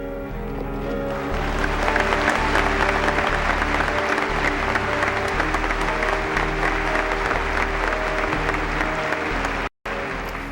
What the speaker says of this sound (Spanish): la mayoría de los miembros del Congreso reaccionó, como siempre, aplaudiendo al presidente